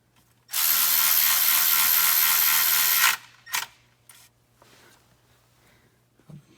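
Milwaukee electric ratchet driving oil pan bolts on a TDI Beetle, one loud, continuous buzzing whir lasting about two and a half seconds, then a short burst and a few quieter clicks and clunks close by.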